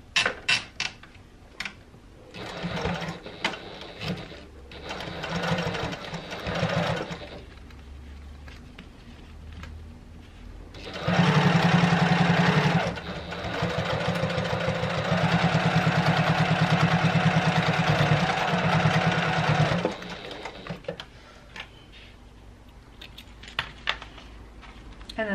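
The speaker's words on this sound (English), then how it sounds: "we're just going to sew down" A Janome HD9 sewing machine stitches a quarter-inch seam, a close mechanical whir in two bursts, a short run followed by a longer, steady, louder run, with scattered handling clicks around them.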